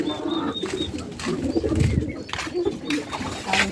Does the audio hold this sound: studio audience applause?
no